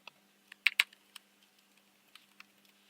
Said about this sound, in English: I'll print out to the console